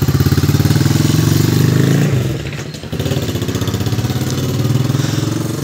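A motorcycle engine chugs loud and close with a rapid pulsing beat, briefly dips and sputters midway, then picks up again steadily.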